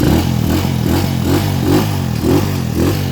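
A motorcycle engine with a 200cc conversion and Pro Racing parts revs close by, rising and falling in repeated bursts roughly every half second over a constant idle chug, loud and unaccompanied by talk.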